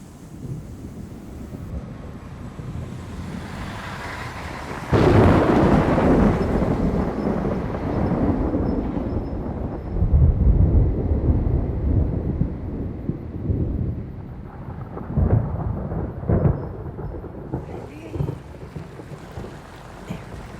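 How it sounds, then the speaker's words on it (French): An approaching thunderstorm sends deep rolling thunder in several heavy waves, about five and ten seconds apart, over a constant bed of gusting wind noise, with quieter rumbles trailing toward the end. "La tempête se rapproche."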